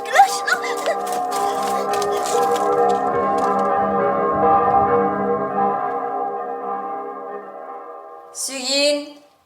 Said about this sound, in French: on sonne les cloches